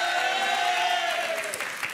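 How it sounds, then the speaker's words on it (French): A TV studio audience applauds on a French dating game show, dense continuous clapping that carries on steadily and fades slightly near the end. "on vous applaudit"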